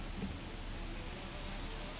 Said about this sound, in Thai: ฝนตกเฉยมาเรียบร้อยแล้วฮะคุณผู้ชม